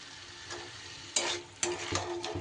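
Papaya curry sizzling in a hot pan over a raised gas flame, with a few distinct stirring scrapes and bursts of frying hiss, close and steady with no voices.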